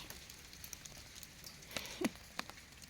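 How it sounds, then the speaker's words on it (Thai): Hail striking plants and ground in a Thai vegetable garden in cold weather, heard as faint, scattered patters with a few sharper, louder impacts standing out from the low background. "หนาวมาก็พอแล้วยังจะมาลูกเห็บตกอีก"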